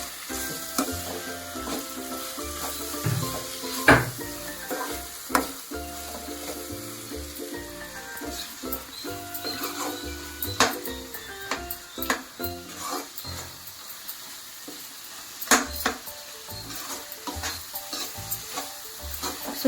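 Onions, tomatoes and green chillies with garam masala fry in a pan for an egg and dry fish curry, a continuous close sizzle broken by repeated scraping spoon strokes.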